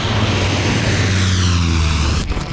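A CL-215T Super Scooper firefighting plane drones steadily and loudly, its propeller engines holding a constant low hum that swells slightly before easing off near the end.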